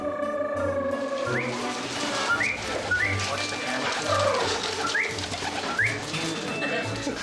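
Pigeons coo repeatedly in low, throaty bursts, with some brighter whistling bird calls rising over a steady background hum.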